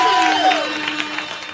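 Applause at a live event, an audience clapping for everyone who took the mic, a steady, dense wash of clapping that holds at an even level for the whole short stretch.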